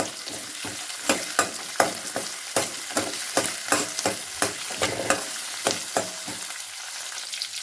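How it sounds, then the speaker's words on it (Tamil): Small onions and curry leaves sautéing in a pan for a fenugreek-leaf tamarind curry, a continuous close sizzle punctuated by a regular rhythm of spoon strokes scraping and tapping the pan, no one speaking. "கொஞ்சம் கருவேப்பிலை வெங்காயத்தை நல்லா வணக்கிக்கலாம்"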